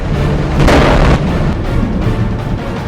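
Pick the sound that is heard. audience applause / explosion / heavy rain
explosion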